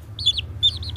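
Chickens make short, high, chirpy calls in two quick close bursts over a low steady hum.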